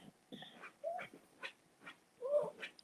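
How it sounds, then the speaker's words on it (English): A dog whimpers and whines in short, high-pitched bursts, several rising cries spaced through a quiet indoor room, with faint snuffling between them. "My dog's acting up too."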